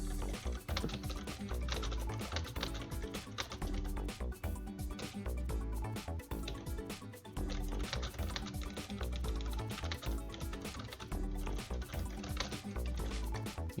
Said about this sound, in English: can probably hear my keyboard while I'm typing very fast right now